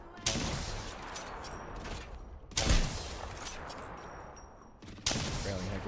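Video-game gunfire rings out in bursts during a pro scrim match, with sharp volleys of shots separated by brief lulls and a loud burst in the middle, plus some faint game sounds.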